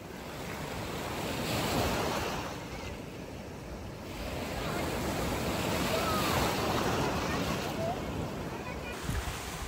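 Waves break and wash along the rocky shore of Pondicherry Rock Beach in a loud, continuous roar, swelling and easing, with wind buffeting the microphone throughout.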